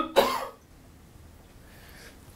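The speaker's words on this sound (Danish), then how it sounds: "så skal jeg bede dig om at forsøge at hoste op i den her skål" A person coughs hard once to bring up sputum into a bowl during a sputum induction test, a short forceful burst followed by quiet breathing.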